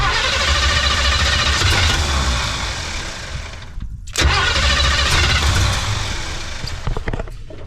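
An abandoned 1980s Chevrolet C10 truck, sitting for 22 years with a worn carburetor, cranks loudly and catches, with a brief drop to near silence before the engine roars again and runs rough.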